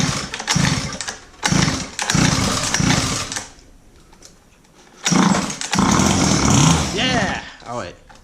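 A small engine with the choke on is pulled to start, giving several short sputtering catches before it fires and runs raggedly, revving unevenly up close while someone talks.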